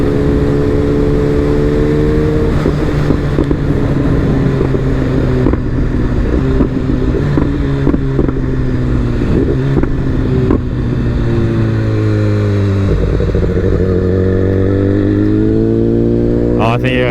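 Kawasaki naked bike and a BMW S1000RR riding together to a meet, steady loud engine drone with shifting pitch as they pull away and cruise, throttle changes through the ride.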